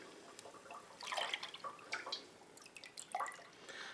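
Homemade apple scrap vinegar drips and trickles through a strainer into half-gallon jars, with soft, close, irregular patters and splashes that are quiet and unaccompanied by talk.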